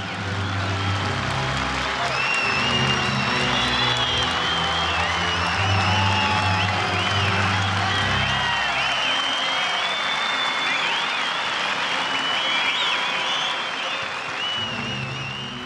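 Large stadium crowd at the Dieckman Stadion roaring and applauding continuously, a dense wash of cheers, whoops and clapping with a low rumble underneath, loud and sustained throughout.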